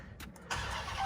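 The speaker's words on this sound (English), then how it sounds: "And then actually, let me turn on the truck." A 2021 Ram TRX pickup's V8 engine cranks briefly, then catches and roars into a steady, loud idle heard from inside the cab.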